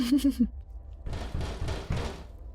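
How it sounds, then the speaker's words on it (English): Two hollow knocks on a door, a quick pair of thuds following a short burst of voice at the start, close and moderately loud in a quiet room. "I give it a 2-tap, like knock on the door"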